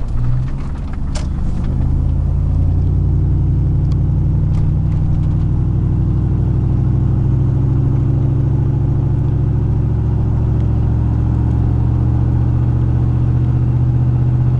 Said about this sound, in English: Everybody in town will probably hear me burning out. That's how close it is. Well, they'll hear my pipes.